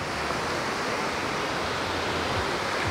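Black Sea surf washes onto the beach at Anapa, a dense, continuous hiss of breaking water that stays loud and steady throughout with no voices.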